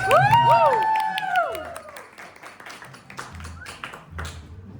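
An audience at a fan press conference applauds, with bright whistles and cheering voices at the start, then settles into steady, moderately loud clapping with murmuring under it.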